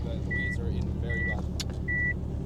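An automatic Subaru Impreza, tarmac-spec WRC style, driving with a steady engine drone and road rumble inside the cabin, while three short electronic beeps sound and people talk over it.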